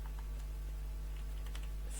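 Code being typed on a computer keyboard, soft scattered key clicks over a steady low hum, faint and close.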